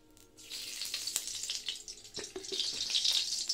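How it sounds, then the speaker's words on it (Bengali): Semolina sizzles softly in ghee in a pan, a faint crackling hiss with scattered pops and light scraping, growing slightly louder toward the end. "ঘি দিয়ে ভেজে নিয়ে তারপর দেখাচ্ছি"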